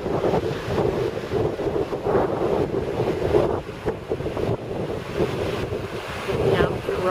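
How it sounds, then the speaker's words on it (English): Gale-force wind buffets the microphone over steady ocean surf breaking on the Iluka foreshore, a loud continuous roar with surging swells and no clear speech. "Gale Wind Storm Brewing off of the coast"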